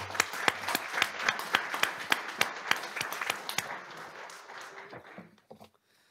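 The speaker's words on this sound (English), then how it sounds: "Let's give them a round of applause." Audience at a regular school board meeting claps in a crisp, rhythmic burst of applause that slowly thins and fades out toward the end.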